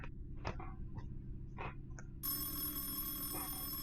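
A telephone bell rings in a video game, a bright electronic trill starting partway through over a low background hum and scattered faint sounds.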